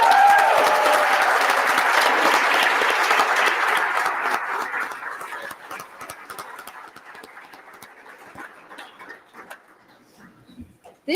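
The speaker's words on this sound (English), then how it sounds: "Please give these students a round of applause." Applause from the audience at a university leadership awards night in Tampa for a group of students, a full, even wash of clapping that slowly thins out and fades to scattered claps over about ten seconds.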